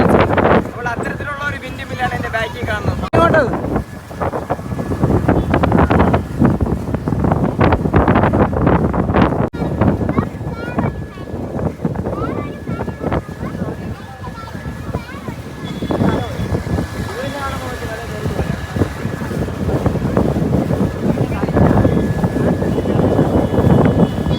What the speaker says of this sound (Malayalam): കാറ്റെന്ന് വെച്ചാൽ ഭയങ്കര കാറ്റ് കേട്ടോ ഒരു രക്ഷയില്ലാത്ത കാറ്റ്